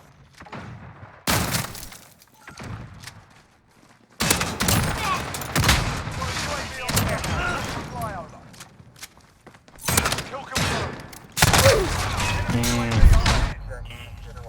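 The gold 725 shotgun in Modern Warfare fires in several loud, sharp bursts with shattering impacts, spaced across the stretch, with a player talking between and over the shots.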